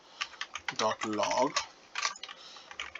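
Rapid keystrokes on a computer keyboard as JavaScript code is typed, coming in quick uneven bursts with a short murmur of voice partway through.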